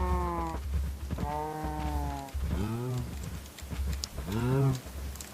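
Several cows in the Minecraft video game give long, drawn-out moos one after another, nearby and fairly loud, over a steady low background hum.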